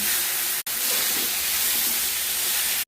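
Eggplant fried with chili and cumin powder sizzles steadily in a pan while being stirred, a loud continuous hiss broken by a brief gap.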